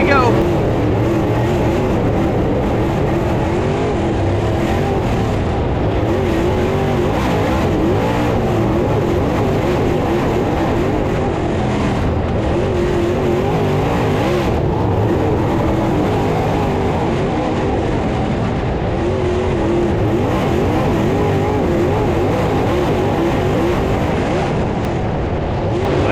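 Dirt race cars roar continuously around a fifth-mile oval track at the Gateway Dirt Nationals, a dense, loud engine drone rising and falling as the pack passes, with an announcer talking over it throughout.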